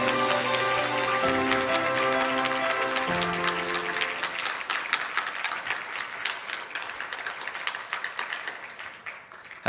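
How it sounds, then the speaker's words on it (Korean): Congregation applauding during a Friday church service as a pastor is welcomed, following a harmonic musical passage; the clapping is dense and sustained, fading into scattered claps toward the end. "우리 다 같이 뜨거운 박수로 환영하겠습니다."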